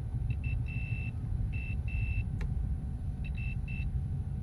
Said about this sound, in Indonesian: Oke, menggunakan buzzer ya.